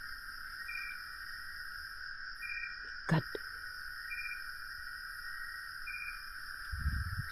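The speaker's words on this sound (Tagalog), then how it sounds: "ang maririnig lang natin yung hindi ko alam kung anong tawag dyan na insekto na yan" Insects, most likely crickets, chirp on a mountaintop near an abandoned house, a steady high shrill drone with regular pulsing trills, a sharp knock midway and a short spoken word.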